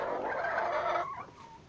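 Chickens kept in a cage are fed freshly cut grass, giving a steady close flurry of clucking and fowl calls for about a second before easing off into quieter calls.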